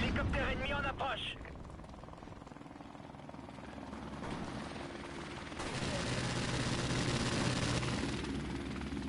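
An enemy helicopter approaches in the Modern Warfare Remastered video game, a rotor drone that thickens and grows louder toward the end, with a brief warbling game voice at the start and scattered gunfire.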